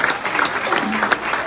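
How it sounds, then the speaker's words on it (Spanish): Audience applause during a priest's talk about family, a steady wash of clapping that runs through the whole short stretch with little variation in level. "Aplaudan, sí"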